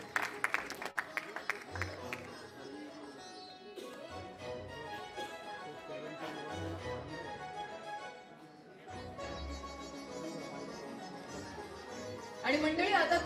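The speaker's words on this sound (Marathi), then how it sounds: "जोरदार टाळ्या सर्व मान्यवरांसाठी वाजवूया" Audience applause for guests on stage at a Marathi television show launch event, with sharp claps at the start, then sustained clapping mixed with music and crowd noise, rising again near the end.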